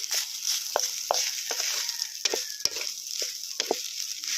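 Instant sinangag garlic fried rice sizzles steadily in a hot pan, with close, crisp frying hiss and occasional scraping clicks from stirring, and no talking.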